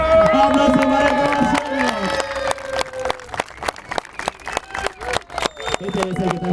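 Scattered hand claps at a children's day party for a supporters' club, sharp and uneven, mixed with loud voices and a crowd.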